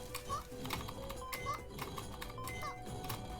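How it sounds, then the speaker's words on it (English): Computer keyboard keys clatter in quick, steady bursts of clicks while a player speedruns the platform game Super Sami Roll, with faint game sounds and tones running underneath. "you can probably hear by my keyboard that I'm like changing direction really quickly and stuff"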